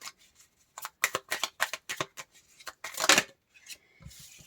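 Tarot cards are handled and shuffled close up in short papery bursts of slides and flicks, with a brief louder rustle near the end and quiet gaps between.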